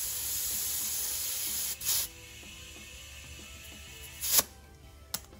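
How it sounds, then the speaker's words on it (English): Air and tire lube spray out of a tire bead during a hand tire change, two short hissing bursts over a steady background hiss, followed by a small sharp tick. "It'll spray out all the lube that you have in there"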